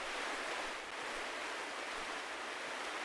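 A constant hiss of rushing water waves in a video game, even and unbroken like surf or a stream, low in level, with no voices.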